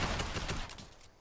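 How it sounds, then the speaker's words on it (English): Heavy shotgun fire in Fortnite, a faint, distant-sounding cluster of booming blasts in a busy game mix that fades toward the end. "Sounds like a heavy shotgun."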